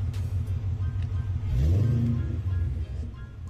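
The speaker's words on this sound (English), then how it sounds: "We'll go to revving. This is my Bassani exhaust." A car engine fitted with a Bassani exhaust with a catless midpipe and long-tube headers revs up, a deep rumbling rise swelling to a peak mid-clip and then settling back, close and loud with no talking.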